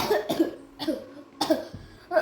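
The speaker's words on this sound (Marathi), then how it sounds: "बस झालं खा खो करत मुद्दामून खोकला" A child gives a series of short, forced coughs, several quick bursts separated by brief pauses, close and fairly soft.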